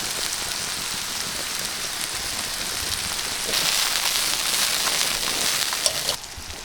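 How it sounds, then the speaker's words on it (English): Garlic and chilies sizzle in a sauté pan over an open fire while wild mushrooms grill outdoors, a dense crackling hiss that swells louder midway before dropping off near the end. "I'm gonna hit it with some garlic and chilies as well. And put some in the saute pan now."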